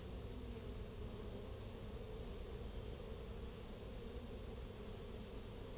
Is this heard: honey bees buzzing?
yes